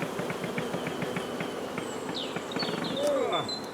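Honeybees buzz around an opened hive with a steady, close hum and rapid flickering wingbeats, while a few faint chirping sweeps rise near the end.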